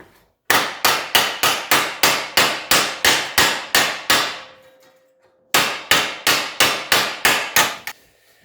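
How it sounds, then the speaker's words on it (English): Sharp, rapid metallic hammer blows ring out in an even rhythm as panel ends are hammered out during rust repair, a run of about fourteen strikes, a brief pause, then another burst. "I can actually lay this on and hammer out the ends."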